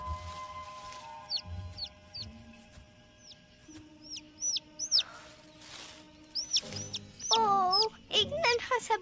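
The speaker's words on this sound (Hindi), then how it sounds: "एक नन्हा सा पंछी।" A small bird in an animated Barbie film chirps in short high repeated tweets, spaced at first and then clustering into faster warbling trills near the end, set against soft background music and shuffling sounds.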